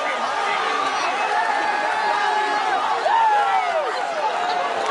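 A wrestling arena crowd roars and chatters during a brawl, a dense wash of voices with rising and falling shouts, while a commentator talks over it.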